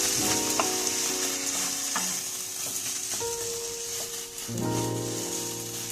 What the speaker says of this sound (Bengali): একটু ধনের গুঁড়ো দিয়ে আমি এটাকে নাড়বো